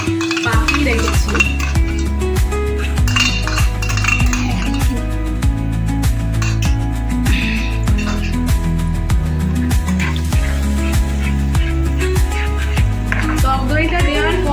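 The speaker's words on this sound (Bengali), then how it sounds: "টক দইটা দেওয়ার পর ভালো করে নাড়াতে হবে, যেন কোনোভাবেই টক দইটা কেটে না যায়। সমানে নাড়িয়ে যাবে।" Yogurt is stirred steadily into a shahi paneer sauce in a pan, with repeated spoon scrapes and clinks against the metal over a low sizzle across the whole stretch.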